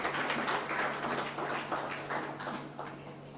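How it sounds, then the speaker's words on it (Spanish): Church congregation applauding during a Sunday school service, a dense wash of clapping in uneven surges over a steady low hum, moderately distant and fairly quiet. "Un aplauso para el Señor."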